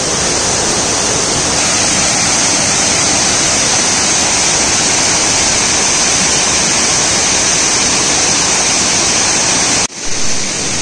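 A waterfall in the Konkan pours in a loud, close, unbroken roar of falling water that fills the air evenly, cutting off abruptly near the end.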